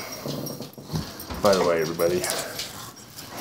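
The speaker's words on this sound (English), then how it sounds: "that's the dog." A pet dog growls and whimpers close by, a short whiny, rumbling burst in the middle, partly under a voice talking over it in a home setting.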